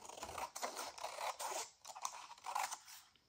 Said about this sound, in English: So now I can cut down the sides